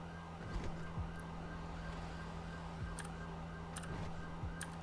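An ambulance siren from a roleplay video game wails steadily at moderate volume over a constant engine-like drone, with no talking.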